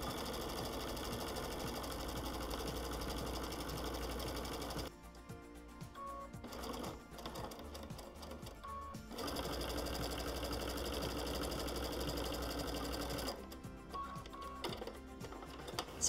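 Sewing machine stitching a quilt seam: a steady, fast mechanical whir and clatter that runs throughout, with a short pause partway through before stitching resumes, close and fairly quiet.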